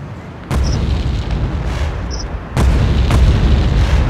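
Two heavy booming blasts from a rocket launcher in the top-down game GTA2, each arriving abruptly and loud, the second followed by a lingering rumble, with no talking.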